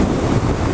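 Strong wind buffets the microphone during a ride on a Harley Street Bob motorbike on the Isle of Man, a steady loud roar with no break.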